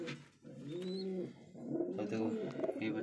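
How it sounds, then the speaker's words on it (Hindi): A young pigeon gives soft, wavering cooing calls in a few close bursts, while someone talks over and between them. "बोल रहा है ये कबूतरी"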